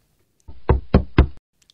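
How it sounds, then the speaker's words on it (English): Three sharp knocks on a door in an even rhythm, close and clear against silence, with no voices. "Oh, someone's knocking at the door."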